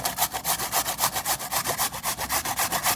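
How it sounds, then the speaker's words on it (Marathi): Peeled white radish is grated by hand in a quick, even rhythm of rasping strokes, about six per second, close up and steady with no talk. "मुळाच्या सालांना काढून घेतलंय आता त्याला किसून घेऊया"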